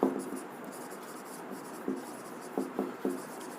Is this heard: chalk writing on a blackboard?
yes